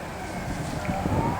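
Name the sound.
emergency vehicle sirens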